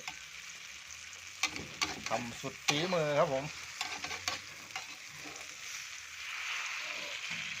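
Eggs with cha-om (acacia) leaves sizzle and crackle in hot oil throughout, with a steady frying hiss as someone speaks briefly over it and utensils clink.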